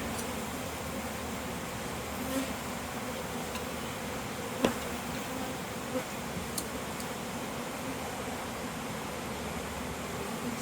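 Honey bees buzz steadily around an open hive during an inspection, a dense continuous drone with a few faint clicks and knocks from handling frames; no one speaks.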